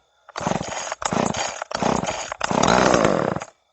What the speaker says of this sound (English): let's keep pulling on this thing, see if we can get some fuel up into the carburetor there, and see if we can get it to fire up